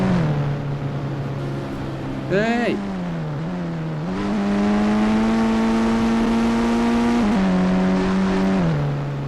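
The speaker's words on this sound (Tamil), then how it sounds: "இன்னும் கார் ஓடுது." Car engine in the Indian Bike 3D video game drones steadily under a short spoken exclamation, with a brief rev spike early on and pitch shifts as it holds speed.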